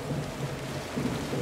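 Steady rain and low thunder rumble through a video game scene, a continuous dense wash of rain with deep rolling thunder underneath, fairly quiet and with no speech.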